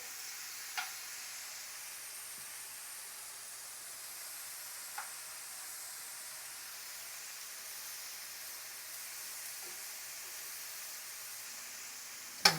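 Thin slices of beef bulgogi fry in a pan with a soft, steady sizzle and a few faint clicks of utensils, quiet and even throughout.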